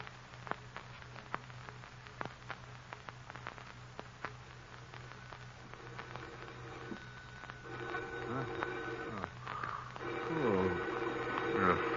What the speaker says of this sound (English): Phone. Who could be calling at this hour?